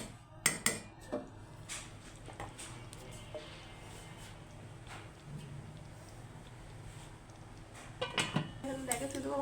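Sharp metallic clanks and knocks of a pot and lid ring out while khichuri cooks on a stove, loudest at the start and end, with quieter kitchen handling between them.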